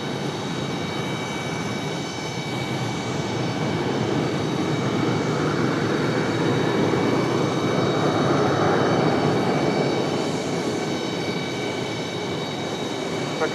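A jet taxis toward a gate at Raleigh-Durham International Airport with a loud, sustained engine whine and roar that swells slightly in the middle and stays steady throughout.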